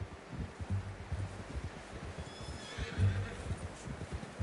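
A horse in a video game whinnies faintly amid a steady rhythm of hooves clopping and soft rustling in the background.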